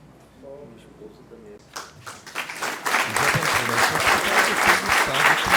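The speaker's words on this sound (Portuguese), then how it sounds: "Vamos aplaudir, Emanuela." At a medal and award ceremony, a brief voice gives way to a swell of clapping from the audience that rises and holds steady, loud and dense, until the end.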